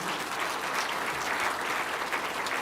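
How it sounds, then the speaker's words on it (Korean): A church congregation applauding during a Sunday morning service, with many hands clapping in a steady, even wash that holds at moderate volume from start to finish. "네, 박수해 주세요"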